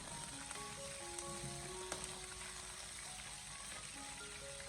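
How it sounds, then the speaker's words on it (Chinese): Fatty pork belly sizzling in a little hot oil in a wok over low heat, a faint, even crackle with thin tonal hum in the background and no voices. "热锅下油少许，再把稍微肥一点的猪肉放进锅里面，先给它煸炒一下"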